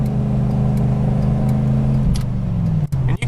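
A 5.8 V8 engine in a vehicle revving hard under fast acceleration, a loud close rumbling roar whose pitch climbs steadily, with brief dropouts near the end.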